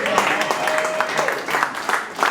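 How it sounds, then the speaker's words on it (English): A small crowd at a school board campaign kickoff party breaks into brief, scattered clapping, close by and moderately loud, with voices talking over it. "How about a round of applause for my beloved Caucasian father"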